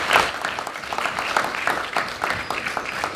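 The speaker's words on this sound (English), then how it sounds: "So big round of applause to DUSA TV and DUSA Radio as well." An audience at a student union EU debate gives a round of applause, crisp, close clapping that stays steady and lively throughout with a few louder individual claps.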